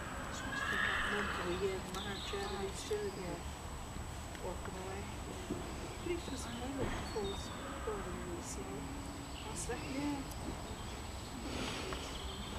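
A horse whinnies repeatedly at a moderate distance over a busy outdoor crowd murmur at the Irish National Stud, with occasional hoof clops and chatter throughout.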